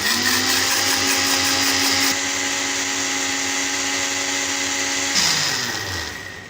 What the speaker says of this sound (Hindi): अंडों को ढक्कन दे के ब्लेंड करेंगे।